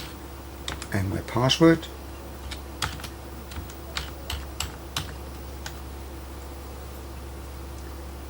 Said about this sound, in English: so I type in my username